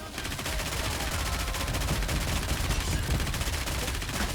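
Sustained rapid gunfire in the game Goddess of Victory: Nikke, a dense continuous automatic burst with no pauses, loud and close throughout.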